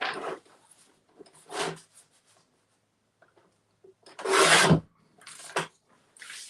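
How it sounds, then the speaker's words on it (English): Paper trimmer cutting through card: several soft, rasping slides of the blade, each brief and close, separated by short pauses. "I'm just going to take this to my trimmer 1 second."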